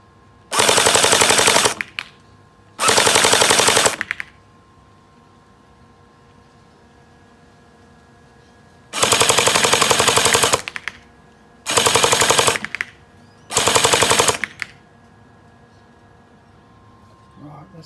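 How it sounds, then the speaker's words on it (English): JM ACR J10 gel blaster with a plastic barrel on a 7.4 volt battery fires five loud full-auto bursts of rapid mechanical clatter, each about one to one and a half seconds long, separated by quiet pauses. "Give it a bit of full auto."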